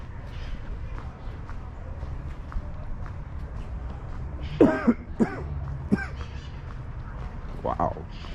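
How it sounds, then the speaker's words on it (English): Coughing outdoors on a San Francisco street between Pacific Heights and Lower Nob Hill, a short cluster of a few coughs and throat-clearing bursts standing above steady city background noise. "Wow, got me coughing over here."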